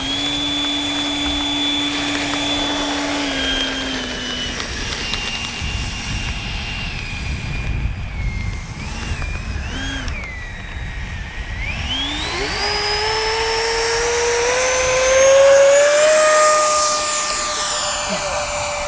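A small RC jet plane, an H-King Flycat V2 with a KM model turbine, whines loudly throughout, pitch sweeping up and down as it passes and banks, with a rising roar near the end.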